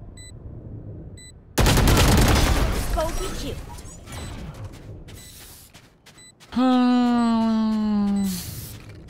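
Rapid sprayed gunfire bursts from a first-person shooter round with a planted spike, loud and dense, followed by a sustained rising whine-like effect near the end; game sound effects dominate with no talk over them.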